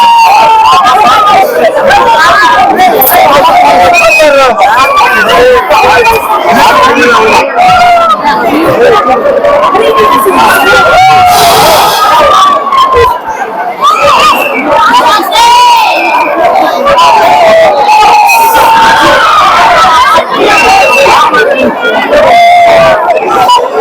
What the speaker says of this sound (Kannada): the people is making a noise